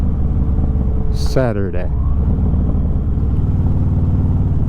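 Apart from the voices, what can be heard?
Harley-Davidson motorcycle engine while riding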